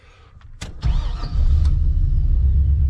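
A 1985 Chevrolet crew cab dually with an LS engine swap and a misfire cranks briefly, fires up and settles into a loud, close idle with a low rumbling engine note.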